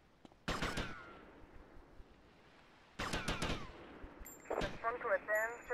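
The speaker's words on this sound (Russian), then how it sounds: "Кто по мне стреляет?" Gunfire in GTA: Vice City: two sharp, loud bursts of rapid shots a few seconds apart, each ringing briefly, followed by softer game effects and faint chirping tones.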